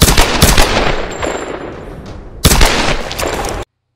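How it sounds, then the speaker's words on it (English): Pistol gunshots from the 2013 Tomb Raider video game: a loud, dense barrage of sharp reports firing in quick succession, with a brief pause and then another burst that stops abruptly. "just listen to how threatening the pistol actually sounds"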